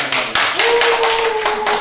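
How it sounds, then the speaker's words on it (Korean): A small group in a lecture hall at a women's centre in Jeongeup, Korea, claps in a brief burst of quick, close hand claps, with a steady tonal hum running beneath. "이럴 때 박수 한번 쳐주세요"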